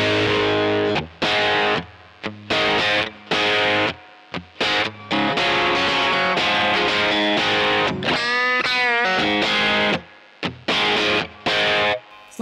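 Loud distorted electric guitar through a TC Electronic Grand Magnus pedal plays choppy chords and bent lead notes, with clear gaps between phrases and no voices.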